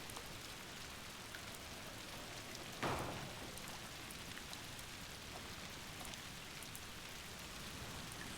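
Steady rain falls throughout, a dense even hiss with one brief louder burst near the middle, no voices.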